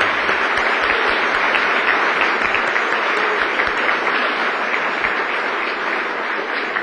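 A large audience at a Sun Microsystems founders panel applauds, with dense, sustained clapping filling the hall at an even level for about seven seconds.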